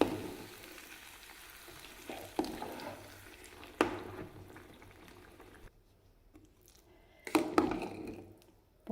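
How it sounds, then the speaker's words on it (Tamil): Sweet pongal with roasted coconut being stirred in a pan, with soft scraping and sizzling bursts that swell and fade, close and fairly quiet, no talk. "இப்போ வறுத்த தேங்காயும் பொங்கலில் சேர்த்துக்கலாங்க. நல்லா கலக்கி விட்டுக்கலாங்க."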